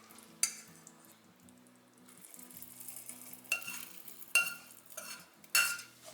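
Besan is stirred with sugar syrup in a pan off the heat for burfi. A few sharp scraping strokes of a spoon stand out over a quiet, faintly humming background.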